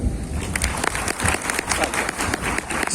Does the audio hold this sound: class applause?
yes